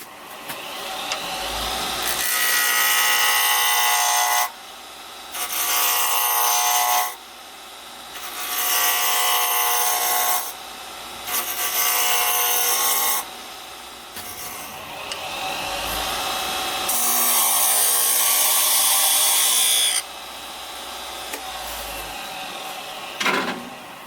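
Wood turning on a lathe: a whistle blank held in pin jaws is being rounded over, giving a series of loud, scraping cutting bursts separated by brief pauses while the machine keeps running.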